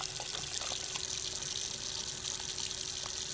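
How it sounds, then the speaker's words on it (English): Water pours out of a Nerf gun with a steady, soft trickling gush, low in level and continuous, with no talk over it. "The water all comes out, but the Nerf dart is actually stuck."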